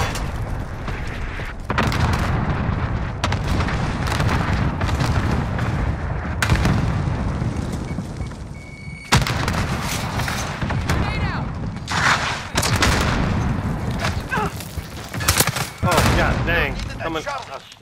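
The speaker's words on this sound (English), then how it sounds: "Enemy cluster strike. Take cover." Cluster strike explosions in Call of Duty: Modern Warfare, a dense, loud run of booms and rapid gunfire bursts with brief gaps, and voices calling out over the barrage.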